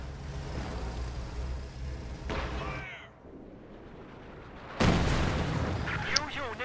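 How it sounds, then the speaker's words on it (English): Pack howitzer artillery fires in a video game battle: a sharp heavy blast, a lull, then a louder boom that rolls into a sustained rumble amid battlefield noise. "Pack howitzer firing in this area"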